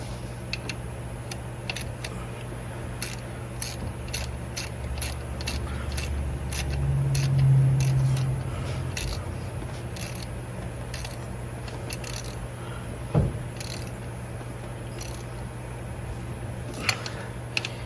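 A ratchet tightens a pulley bolt on a car engine, giving a close, steady run of sharp clicks with no one talking.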